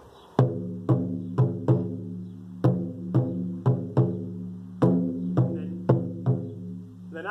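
The Ogi Matsuri rhythm is beaten on a taiko drum, a series of resonant, ringing strikes in irregular clusters of two to four. Each hit rings briefly before the next, close and clear with no talking.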